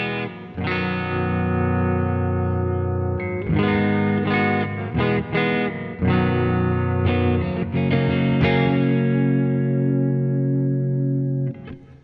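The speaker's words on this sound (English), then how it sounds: "now the hall reverb is something that I've always used on the strumming kind of situations" An electric guitar strums chords through the hall reverb of a NUX Verb Core Deluxe pedal, each strum ringing out into a wide, lingering wash with several sustained chord changes and no talking.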